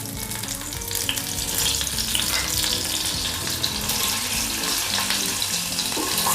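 Cinnamon, cloves and cumin fry in hot oil in a pan for a Kannada-style horse gram sambar, giving a loud, steady, close-up sizzle with occasional stirring clatter throughout.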